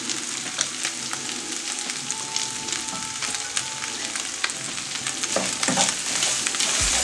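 A pot of beef stew with sweet potatoes, potatoes and added beef cubes, stirred over medium heat, giving a steady close sizzle with occasional scraping strokes.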